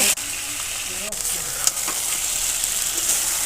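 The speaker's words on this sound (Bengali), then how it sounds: "তারপরে ম্যারিনেট করা মাংসটাকে দিয়ে ভালো করে হালকা আঁচে কষিয়ে নেব।" Marinated chicken pieces frying over low heat with bay leaves and browned onions in a wok, a steady bright sizzle with occasional spatula clanks and stirring scrapes close by.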